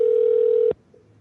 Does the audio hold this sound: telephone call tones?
yes